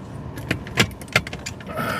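Keys jangle in short metallic bursts near a car, with two brighter clinks standing out amid softer rattling and handling noise, close and fairly quiet.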